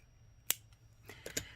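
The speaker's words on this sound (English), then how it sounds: "So let's cut some wire off here." Beading wire is snipped for a bookmark with a sharp, close scissor-like cut, followed by a few quieter clicks and taps of handling the wire.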